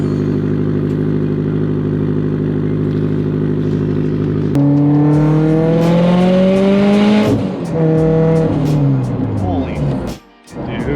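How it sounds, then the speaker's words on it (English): A neglected Subaru WRX STI engine is started and left to warm up. It holds a steady, close drone, then rises into a louder, fuller tone whose pitch sweeps up and down before settling. "So let's start the WRX, let it get warmed up."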